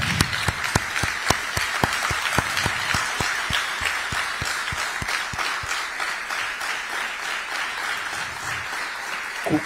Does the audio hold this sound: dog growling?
no